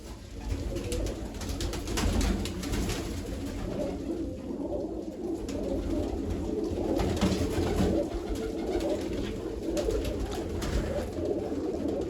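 Pigeons coo softly and repeatedly in a loft, a steady low murmur of several birds close by with no talking.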